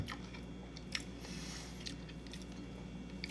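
Close, soft crunching and chewing of a herby salad, with steady moist bites and a few crisp snaps over a low constant background hum, no talking.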